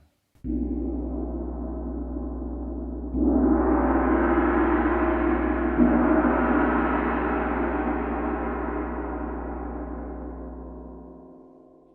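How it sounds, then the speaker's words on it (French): A tam-tam rings out with a low, sustained hum, then swells into a shimmering wash after being struck, slowly fading over several seconds. "Voici le son du tam-tam."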